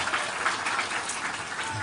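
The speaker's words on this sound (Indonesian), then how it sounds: "tepuk tangan dulu buat beliau nih Pak Mus" Applause from an audience at an Indonesian public gathering for a politician, a steady dense patter of clapping filling the whole stretch with no pauses.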